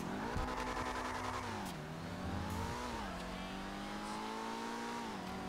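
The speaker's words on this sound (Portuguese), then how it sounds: "dá pra escutar as marchas trocando no bagulho" An Emperor ETR1 racing car engine in GTA Online roars steadily, its pitch climbing and then dropping sharply several times as it shifts through the gears.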